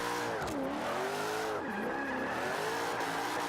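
A rear-wheel-drive Nissan Fairlady Z drift build sliding in Forza Horizon 5, the engine droning and revving with pitch dips as tires squeal, loud and close and continuous throughout.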